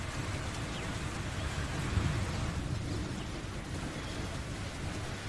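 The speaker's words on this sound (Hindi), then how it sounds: "यहां पर भी हवा के साथ तेज बारिश झमाझम हो रही है।" Heavy rain falls steadily with wind during a storm over towns in Rajasthan, India, a constant loud wash of drops that stays unbroken and even throughout.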